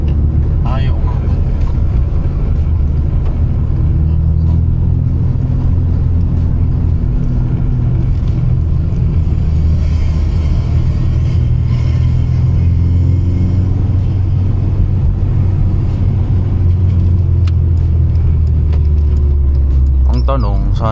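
A 2000 Honda Civic SiR engine hums and rumbles steadily from inside the cabin while driving, a loud constant low drone with road noise, and people talk over it throughout.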